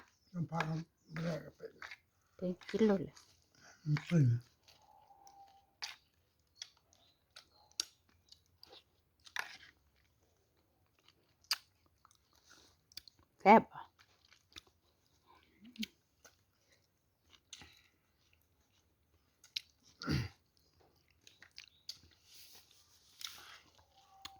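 Someone eats rice with curry, with soft, close chewing and crunchy bites scattered through a quiet stretch and brief talking early on.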